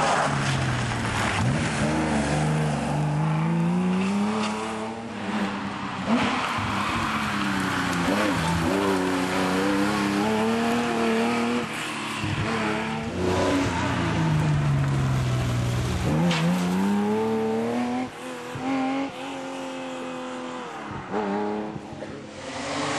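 Porsche 911 rally car at a stage of the 2013 Lavanttal Rally in Austria, its engine loud and close, revving up and down through repeated gear changes and accelerations across the whole stretch.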